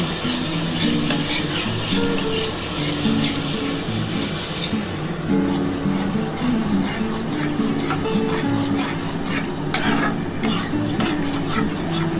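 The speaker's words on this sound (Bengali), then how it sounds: "এবার ভালো করে সুজিটা ভালো করে নাড়াচাড়া করতে হবে।" A spoon stirs semolina boiling in water in a pan over a high flame, making close scraping and bubbling sounds with a faint sizzle. Low hums and tones run underneath.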